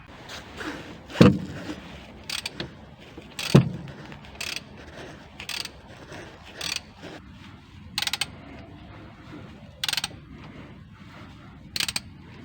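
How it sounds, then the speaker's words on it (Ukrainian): A bolt being turned into the door threads of a 1985 VW T3 Transporter Kombi, heard as a series of short metallic ratcheting clicks and clanks spaced a second or two apart over a quiet background. "Закрутив болт до кінця, прогнав різьбу, тим самим викрутив назад."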